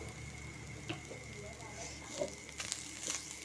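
Two bowls of grated coconut sauté in half a spoon of ghee in a kadhai for a fried modak filling, giving a faint soft sizzle with a few light crackles and scrapes while someone talks.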